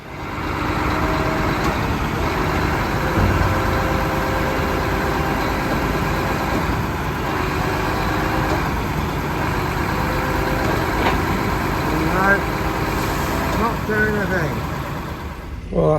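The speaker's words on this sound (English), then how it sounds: "so let's get the old JCB on the go." A JCB machine engine runs at a steady idle, a close, continuous low rumble with a few brief mechanical squeaks near the end, with speech at times.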